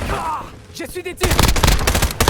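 Rapid automatic gunfire bursts loud and close in the Warzone video game, preceded by a quieter stretch of game voice and effects, then dense overlapping shots filling the last second.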